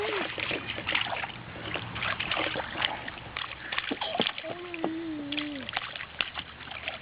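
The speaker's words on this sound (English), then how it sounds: "he's too busy splashing" A toddler splashes in water during a backyard water day, giving soft, scattered splashes and sloshes at low level, with children's and adults' voices chattering around.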